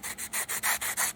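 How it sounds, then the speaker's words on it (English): Plastic T161 model tank track links for an M2A2/M2A4 kit are hand sanded in about eight quick, even back-and-forth strokes, a close, rhythmic, raspy rubbing with no talk. "I'm just gently holding them and sanding until I get those marks off"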